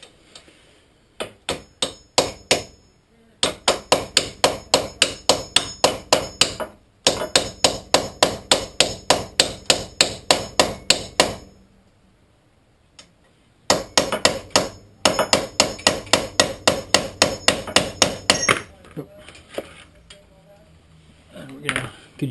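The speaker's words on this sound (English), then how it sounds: "try to tap these guys. You don't want to hit it too hard." Hammer tapping bolts on the front wheel hub of a 2009 Infiniti FX35 AWD, in fast steady bursts of sharp metallic knocks separated by short pauses, close and fairly loud.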